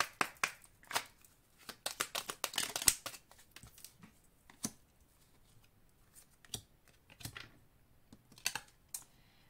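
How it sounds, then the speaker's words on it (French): Oracle message cards for a Cancer September reading are shuffled, tapped and drawn by hand, irregular close bursts of crisp papery riffling and clicks, with quieter gaps between. "Allez, on va maintenant prendre quelques cartes messages."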